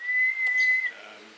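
A pet bird in Australia gives a single clear, steady whistled note lasting under a second, close and loud, followed by a faint softer trailing call.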